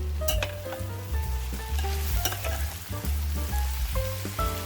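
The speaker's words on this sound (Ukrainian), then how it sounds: "Баклажани віджимаю від зайвої вологи і також викладаю в пательню і підсмажую." Steady, close sizzling of eggplant, carrot and other vegetables frying in a pan, with occasional stirring clatter and scrapes, no voices.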